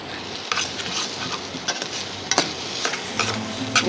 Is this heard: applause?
no